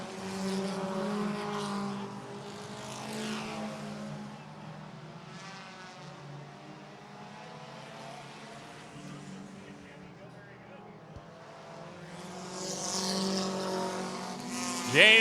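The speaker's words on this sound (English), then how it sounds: "They're side by side, a drag race down the back straightaway." Race car engines at a speedway during a 10-lap heat race, including a Pontiac Sunfire, whining and droning as cars run side by side, mostly under continuous commentary.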